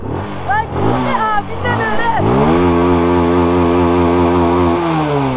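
An NK150 motorcycle engine revs on a hill, with a few short rising revs at first and then one long, steady, loud rev that holds and falls away slightly at the end.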